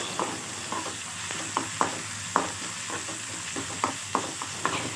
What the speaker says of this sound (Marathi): पाच सहा कढीपत्त्याची पानं टाकायची आहेत